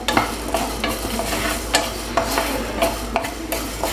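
Mutton masala sizzles in a pan while a spoon scrapes and stirs it in regular strokes, close and loud, with no voices.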